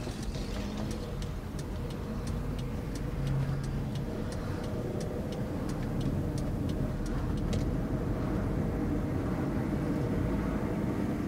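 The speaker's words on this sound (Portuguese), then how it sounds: "Olha a quantidade de carro vindo aí." Steady stream of cars passing on a busy road beside a neighborhood near Tatuí, Brazil, on a Saturday evening, a continuous broad traffic rumble with faint ticking clicks early on and no talk.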